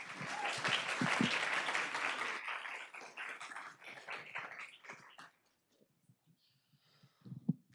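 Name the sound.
audience applause at school board meeting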